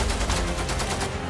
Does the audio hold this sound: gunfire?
yes